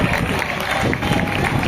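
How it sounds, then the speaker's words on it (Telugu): Applause from a school audience at a Republic Day event at KNR MC High School, Nellore, a dense, steady patter of many hands clapping at once with crowd murmur mixed in, sustained throughout. "క్లాప్స్ కొట్టాలమ్మా."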